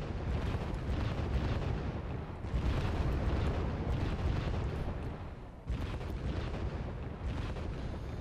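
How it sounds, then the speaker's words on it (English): Vasilek mortars firing a rapid burst in the video game Wargame Red Dragon, heard as a dense, continuous roar of booming artillery blasts that stay loud throughout, with brief swells and dips. "Artillery being fired."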